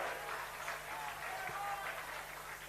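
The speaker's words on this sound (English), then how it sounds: "Boy, did the crowd like that one as well." A rugby league crowd at a Canberra regional ground applauds after a penalty is won, a faint, brief spatter of clapping and cheering heard from a distance behind commentary.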